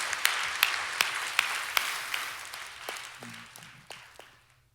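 Church congregation applauding in thanks after a worship service, a steady wash of clapping with a few sharp claps that gradually fades away, no speech over it.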